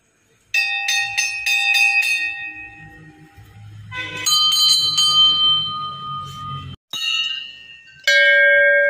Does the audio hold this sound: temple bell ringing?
yes